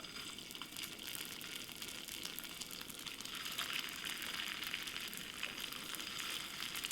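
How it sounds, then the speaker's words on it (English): Steady, quiet sizzling and crackling of potato cauliflower gnocchi frying in a hot pan, a continuous soft hiss with no talking. "Pan should be hot enough, so when we put the gnocchis, it should sizzle."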